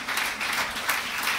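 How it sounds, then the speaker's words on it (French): Audience applauding the actors at a performance, a brief burst of dense, even clapping. "on va applaudir"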